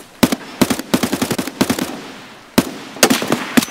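Rapid automatic gunfire in the video game Escape From Tarkov, several sharp close bursts with short pauses between them, loud and with no talking over the shots.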